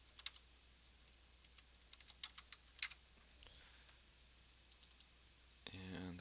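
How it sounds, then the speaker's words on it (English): Keys clicking on a computer keyboard as a value is typed, in short scattered bursts of taps at moderate volume with pauses between, ending in a brief different clicking sound. "type in the proper value"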